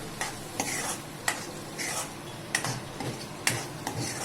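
Onion sizzles in a hot pan while a spatula stirs it for Khandeshi shev bhaji, steady frying crackle broken by sharp scraping clacks of the utensil against the pan at uneven intervals.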